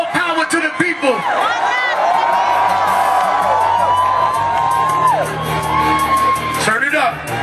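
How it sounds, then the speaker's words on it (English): A May Day Occupy Wall Street protest crowd shouts, whoops and cheers loudly and continuously, with rising yells and raised voices carrying over a dense, close roar of many people. "I hear my man right there screaming"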